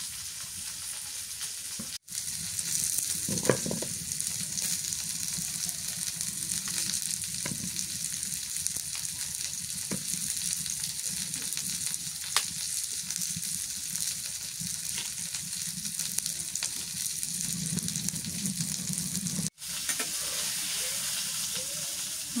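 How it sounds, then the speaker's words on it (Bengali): Pieces of mirik fish fry in hot oil, a steady loud sizzle and crackle running throughout with occasional brief clinks, no talk. "মাছ ভাজি হয়ে গেল, নামায় নি।"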